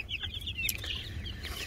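Young chicks peep in a rapid, overlapping chorus of high, thin chirps, fairly close, over a steady low background rumble, with no talking.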